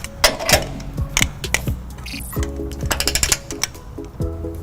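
A torque wrench with a 19mm socket and 5-inch extension tightens a trailer hitch bolt toward 86 foot-pounds on a 2020 Lexus GX 460, making bursts of quick, close metallic ratcheting clicks with brief pauses between strokes.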